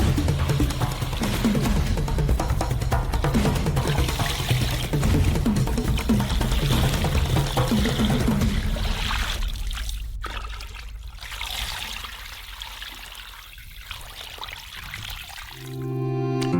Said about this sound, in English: and fill it all up with water.